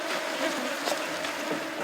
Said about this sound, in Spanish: La nube de moscas en el lugar es agobiante.